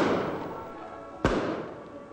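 A single sharp daytime firework blast goes off during Semana Santa celebrations in San Miguel, a sudden loud bang and thud rising above a steady background murmur.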